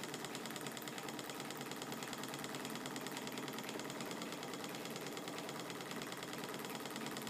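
A small Stirling engine runs indoors with a faint, steady, rapid mechanical ticking and whirring that holds evenly throughout without pauses or voices.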